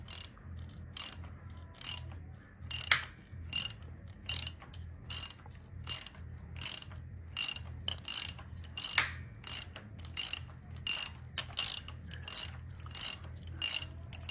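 A hand ratchet works bolts loose on the engine of a Charger R/T during an oil pump swap, a crisp, close clicking repeated in regular short bursts roughly every second over a faint low hum, with no voices.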